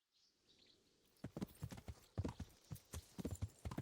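Horse hooves clip-clop in Kingdom Come: Deliverance, a quick uneven patter of several hoof strikes that grows louder after a second of near silence, with a faint whinny at the start.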